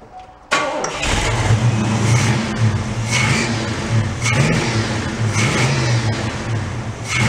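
A 1986 Oldsmobile Cutlass engine fires up and runs loud and close, its low rumble surging in repeated rev swells over a steady idle.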